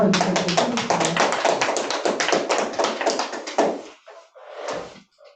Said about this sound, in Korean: 우리 박수로 한번 좀 힘을 드릴까요?